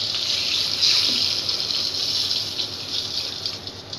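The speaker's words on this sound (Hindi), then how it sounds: "अब मैं इसमें डालूँगी थोड़ा सा पानी कि ये अच्छी तरह गल जाए।" Water pours into a pan of frying chicken, a steady hissing gush, close and fairly loud, holding even for a few seconds before easing slightly.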